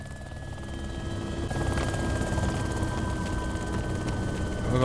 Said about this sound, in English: I'm just gonna land the helicopter.